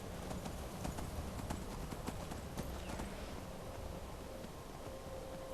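A horse's hooves clip-clop steadily in Skyrim, a rapid, regular run of hoofbeats over a constant hiss of background noise, fairly faint and even throughout.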